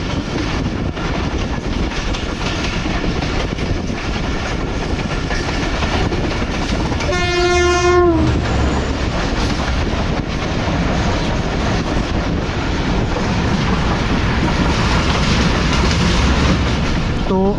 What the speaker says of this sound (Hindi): आपके सामने देखा कि एक ट्रेन जो है माल गाड़ी गई है अप लाइन से